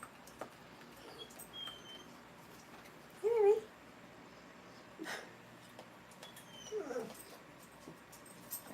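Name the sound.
dog whimpering for attention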